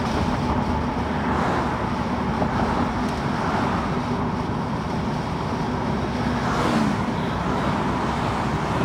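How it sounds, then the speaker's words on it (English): Road traffic near Iowa City at 4 p.m., a continuous loud roar of cars and tires on pavement with passing vehicles swelling and fading. "Now here we got some traffic because it's 4 p.m."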